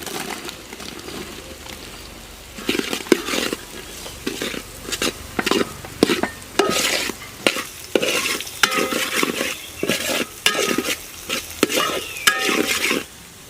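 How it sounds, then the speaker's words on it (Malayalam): Small onions sautéing with ginger and garlic in a pan for a Kerala fish curry, with steady sizzling and repeated close stirring scrapes of a spoon against the pan. "ഇഞ്ചിയും വെളുത്തുള്ളി ഒന്ന് മൂത്ത് വന്നിട്ടുണ്ട്. ഇനി അതിലേക്ക് ചെറിയ ഉള്ളി,"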